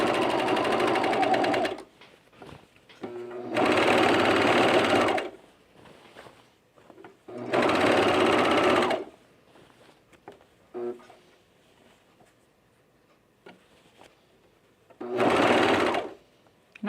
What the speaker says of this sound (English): Now we can overlock it.